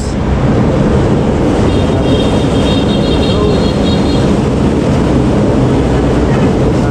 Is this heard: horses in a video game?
no